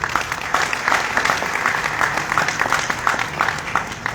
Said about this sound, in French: Applaudissez-les encore, ils le méritent.